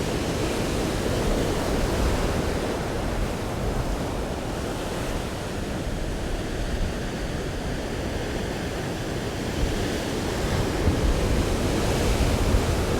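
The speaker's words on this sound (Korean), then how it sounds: "파도가 점점 더 보시다시피 뭐 하얗게 온 발밑이 다 뒤집어지고 있죠" Ocean surf churns and breaks white against the rocks below a fishing spot at Captain Cook in Sydney, a steady roaring wash with no pauses, loud and close, with wind buffeting the microphone and no voices.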